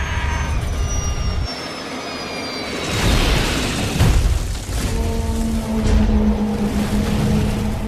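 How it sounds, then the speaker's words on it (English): A passenger aircraft's jet engines roar as the plane plunges into a hillside, a loud rushing whine sweeping downward, then a sudden break and heavy booming impact noise that swells and lingers. "Moments later, the aircraft plunges into the hillside."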